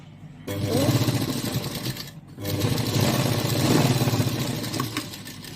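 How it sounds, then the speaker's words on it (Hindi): A sewing machine stitches tucks on a mirror work blouse with a fast, steady mechanical whir in two close, loud runs separated by a short pause. "हम यहाँ पर ये टक्स को सिलेंगे यानी कि स्टिच करेंगे"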